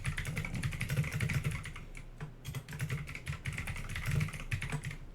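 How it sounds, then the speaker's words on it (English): Fast typing on a clicky mechanical computer keyboard: dense, crisp key clacks in quick bursts with a brief pause midway, close and steady, with no voices. "I got them clicky keys."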